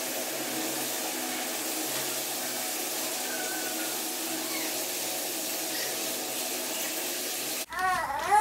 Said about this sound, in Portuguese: Pegar, encher a banheira pra dar banho nela agora.